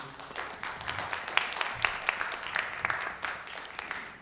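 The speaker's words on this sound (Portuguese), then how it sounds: "A gente tem aqui o Jefferson Cândido, uma salva de palmas para ele" An audience at a children's media production panel applauds panelist Jefferson Cândido, a moderate round of many overlapping claps that holds steady for a few seconds, with a faint murmur of voices underneath.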